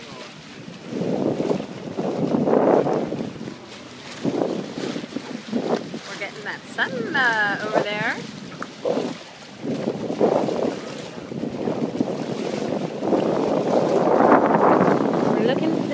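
A boat moves across open water in gusty wind, with buffeting wind noise and water rush throughout while people talk over it.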